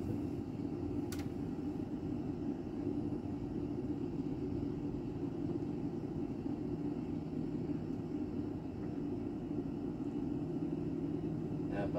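Steady low engine rumble of an airplane taxiing on the runway in a flight simulator video game, a continuous drone that holds level and fairly close throughout with no talk over it.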